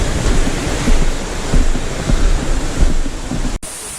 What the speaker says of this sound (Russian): Добрались мы до водопада.